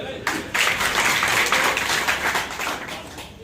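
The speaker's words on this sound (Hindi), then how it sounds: "जोरदार ताली" Loud applause from a village gathering welcoming a speaker at a ward campaign event, a sudden burst of many hands clapping that swells and holds, then slowly tapers off.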